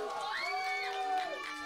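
A crowd cheers and whoops over a steady wash of noise during a U-15 youth football penalty shootout between middle school teams on an artificial pitch in Cheonan, with rising shouts from young spectators.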